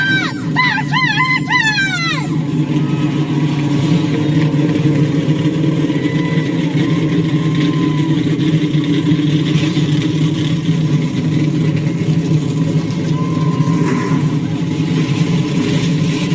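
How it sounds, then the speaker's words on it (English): NASCAR stock car engines fire up at the 2002 UAW-DaimlerChrysler 400, making a dense, steady, loud roar that holds without a break. A brief high whine or cry cuts in near the start. "Engines are fired."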